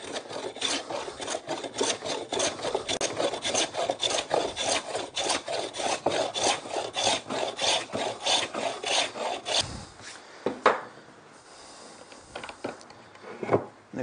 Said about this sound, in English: It's constant contact with the blade and the timber.